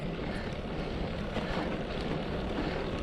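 Strong wind, gusting around 30 to 35, roars and buffets continuously across the microphone, a dense rumbling rush with no pause over a few seconds, in rural New South Wales.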